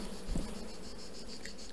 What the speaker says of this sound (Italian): Magari diamo una scrollatina delle api per essere sicuri.